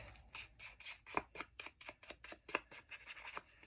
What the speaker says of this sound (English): I'll just give the bottom a little snip, just like that